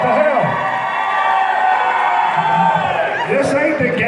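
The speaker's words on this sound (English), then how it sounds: "Give yourself a round of applause, y'all" Crowd at a charity toy event cheering, whooping and applauding loudly, with raised voices and shouts layered over a continuous wall of noise.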